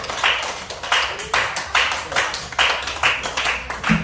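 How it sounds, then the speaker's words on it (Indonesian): Students in a classroom clap for a group that has just finished its magnet project, giving short bursts of hand claps in an uneven rhythm, fairly close and loud, with no talking over them. "Berhasil kelompok jarum. Tepuk tangan dulu."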